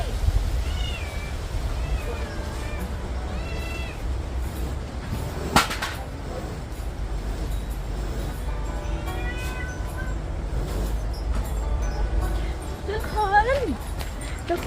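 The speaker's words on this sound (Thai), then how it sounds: "อันนี้เป็นแมว แมวจรนะคะ" A stray kitten, apparently orphaned, gives a series of high, wavering meows spread across the stretch, some close together and some spaced apart, over a steady low background hum with a sharp knock midway and people talking nearby.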